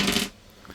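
A bag holding six different dice (4, 6, 8, 10, 12 and 20-sided) is shaken, giving a short, close rattling clatter that quickly dies away.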